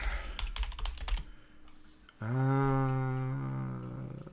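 Quick clicking keystrokes on a computer keyboard for about two seconds, then a sustained tonal hum takes over.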